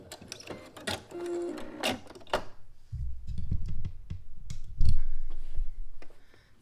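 A sewing machine back stitches a robe pocket up close, with quick mechanical clicking and whirring bursts, then a lower, steadier run of stitching toward the end.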